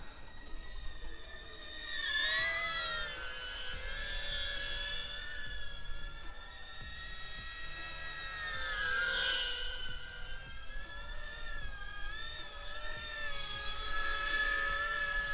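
Hover X1 drone flying nearby, a loud whining buzz of small propellers whose pitch rises and falls as it manoeuvres, steady throughout with no talk.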